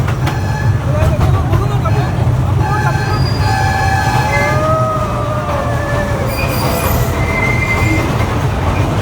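A train at the Chennai rail museum rolls by loudly and steadily, with a heavy low rumble, squealing wheel tones and a faint clickety-clack throughout, and voices mixed into the noise.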